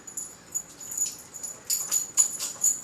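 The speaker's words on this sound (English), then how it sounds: "We got dogs there." A dog whimpering in short high-pitched bursts, several soft whines repeating close by with brief pauses between them.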